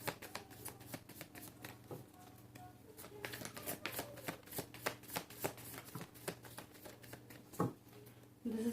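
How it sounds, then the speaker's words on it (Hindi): A deck of tarot cards is shuffled by hand, giving a quiet, rapid run of riffling snaps and flicks close to the listener, with a faint bit of background noise. "this is my last shuffle"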